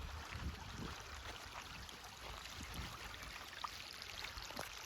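Irrigation water running out under a tree into a farm field in Gujarat, a faint, steady trickling wash with a few soft knocks and splashes, no voices.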